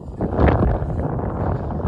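Strong winter storm wind with snow in western Ukraine roars and buffets the microphone in a continuous, loud rush with low rumbling gusts.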